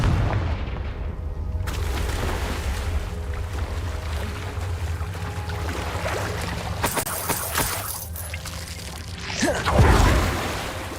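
Video game Hogwarts Legacy, Confringo fire curse: a fiery whoosh and rumbling burst erupt near the end after a low ambient cave drone, with crackling texture in between.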